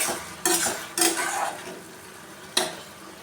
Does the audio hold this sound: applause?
no